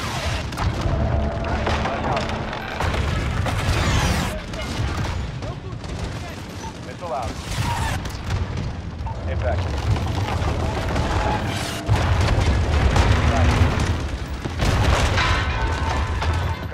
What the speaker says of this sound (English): Garrick, put a hell fire in that building.